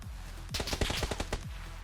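Gunfire in the New State Mobile video game, a rapid burst of about a dozen sharp shots after a brief quiet lead-in, fairly faint and distant.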